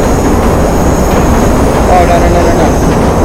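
A train rolls along the tracks in the Watch Dogs video game, a steady loud rumble running the whole time with no pause.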